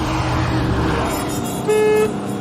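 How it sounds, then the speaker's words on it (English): A small car's weak, thin horn gives one brief toot near the end, sounding over a low engine and road noise. "Pathetic horn. I mean, listen to that."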